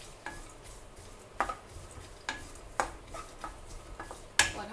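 Nuts and muskmelon seeds are sautéed in hot ghee, producing a soft sizzle beneath intermittent sharp clinks and scrapes of a spoon against the pan.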